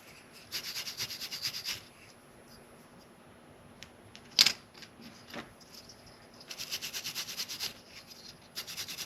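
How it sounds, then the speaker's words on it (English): Short bursts of dry rubbing clean filing residue off a Micro Engineering 50-foot deck girder bridge part, coming in two clusters separated by a quiet stretch with a single sharp click. "just cleaning off the dirt, the left behind residue of the filing"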